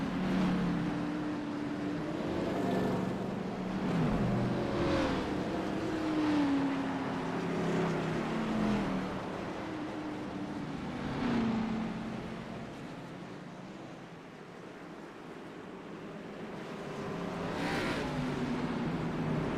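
Race cars in a sim racing game roll off pit lane at Dover for an Xfinity-series event, their engines droning steadily with repeated rising and falling revs that swell and fade.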